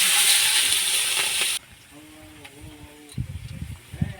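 Cumin seeds and asafoetida sizzling in hot oil for a tempering, a loud dense hiss for the first second and a half that drops off sharply, then quieter background with a few clatters.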